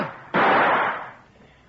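A single sharp gunshot effect in an old radio drama, loud and close, bursting suddenly and then fading into a brief decaying tail.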